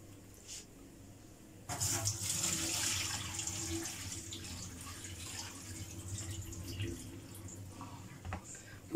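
Water is poured into a bowl of rice for washing, a steady splashing stream lasting several seconds before easing into dribbles and swishing, close and fairly quiet.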